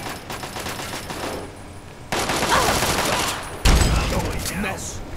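Automatic gunfire in the video game Fallout 3: dense, loud bursts of rapid shots that run almost continuously, with a heavy boom partway through and a voice shouting briefly between them.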